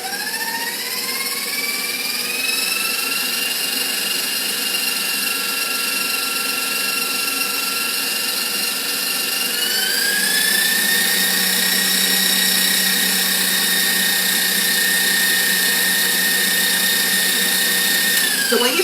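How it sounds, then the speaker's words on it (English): An electric mixer beats pumpkin whoopie pie batter in a bakery kitchen, a steady high motor whine that climbs in pitch early on, jumps higher about halfway through and then runs on continuously with no talk. "I'm going to mix this up. It's going to get a little loud in here for a minute or two"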